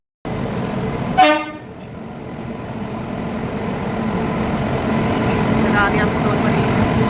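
A train horn sounds as a train pulls into a station, one sharp blast near the start followed by the steady rumble of the arriving train and platform noise.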